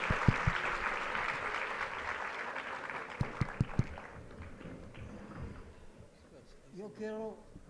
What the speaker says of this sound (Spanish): Otra vez, otro aplauso, por favor. ¡Fuerte!